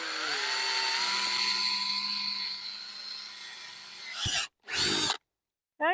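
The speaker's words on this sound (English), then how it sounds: "So I've got my handy drill" A power drill with a large bit bores through a plastic tub, whirring steadily with a high whine that slows and drops in pitch, then stops and restarts in two short bursts before cutting out.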